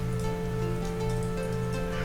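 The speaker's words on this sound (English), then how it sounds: "The rain is now muffled." Steady muffled rain heard from inside a sealed room with a raised wooden floor, a soft continuous hiss with a low hum beneath, faint and even throughout.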